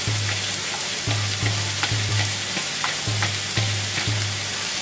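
Finely chopped onion frying in coconut oil in a pan, a continuous close sizzle with a low rhythmic hum and occasional light stirring ticks, no talking.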